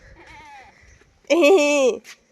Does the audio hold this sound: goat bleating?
yes